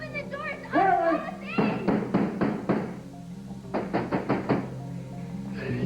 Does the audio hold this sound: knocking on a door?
yes